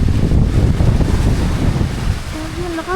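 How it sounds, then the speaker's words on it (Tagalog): Strong storm wind outdoors with heavy rain on a farm, loud roaring gusts buffeting the microphone and a broad rushing noise throughout. "Lakas ang bagyo, no?"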